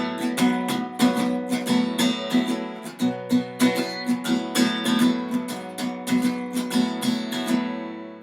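Electric guitar riff, strummed open without palm muting, rings out in steady rhythmic chord hits with sustained, ringing strings, played alone at moderate loudness.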